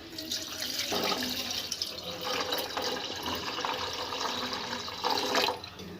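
Water running from a tap into a pot for pepper rasam, a steady rushing stream that swells louder in bursts, close and continuous.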